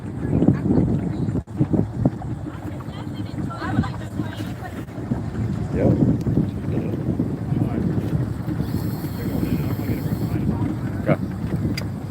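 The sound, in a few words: boat engine idling roughly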